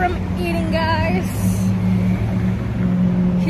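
A car pulled forward a short way on an LA outing, its engine a steady low hum and rumble throughout, with people talking over it.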